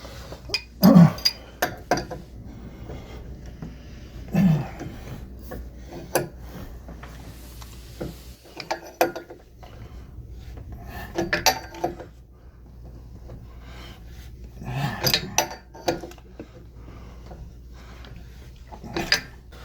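A pipe wrench tightens a drain pipe fitting under a bathroom sink, with intermittent metallic clinks, scrapes and knocks in irregular bursts separated by quieter pauses.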